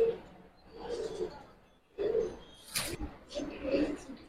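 Military-breed pigeons cooing close by in low, throaty bursts, several soft calls spread across the moment, with someone talking alongside them.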